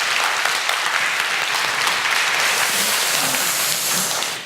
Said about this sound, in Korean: 우리 한번 다시 한번 격려와 사랑의 박수 한번 부탁드립니다